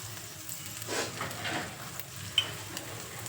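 Soft, steady sizzling of a spice tempering in hot oil, with a few faint stirring swells and a small clink, close and without speech.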